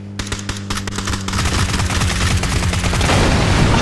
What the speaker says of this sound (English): We blew up the vehicle.